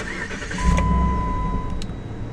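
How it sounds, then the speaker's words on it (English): A 2009 Jeep Commander Limited SUV with a new engine cranks briefly and catches, settling into a steady low idle with a faint electronic chime tone running over it. "Starts up just fine, which I would expect with a brand new engine under the hood."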